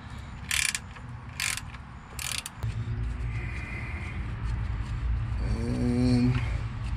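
Ratchet working on the 15 mm oil drain plug of a GM 5.3 litre V8 (L83) during an oil change: a few sharp clicking bursts early on, then a low steady drone and faint creaking as the plug breaks loose.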